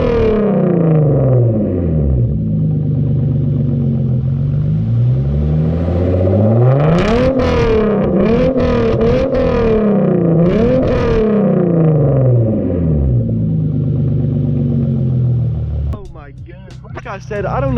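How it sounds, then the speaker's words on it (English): Hyundai Genesis Coupe fitted with ARK downpipes, its engine revved hard several times in a row, loud and close, climbing and falling in repeated sweeps before settling back to idle. "Let's go ahead and get some revs."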